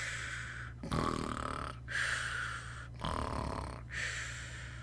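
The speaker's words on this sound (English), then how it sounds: "Dozer was snoring in a tree not far from the others." Slow, heavy snoring from a sleeping animal up in a jungle tree, four long rasping breaths in an even rhythm, close and fairly loud with no talk.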